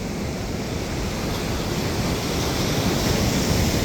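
Chilly ocean surf splashing onto a beach, a loud continuous broadband roar of breaking water and spray with no clear gaps, close to the microphone.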